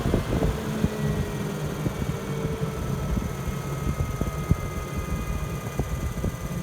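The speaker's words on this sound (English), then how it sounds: "it's shifting a hell of a lot of air, but it's so much more noisier than the Maxxair ones" A van's roof ventilation fan, not a Maxxair model, running on its low setting: a steady, fairly loud whooshing drone of moving air with faint tonal hum lines and small irregular ticks.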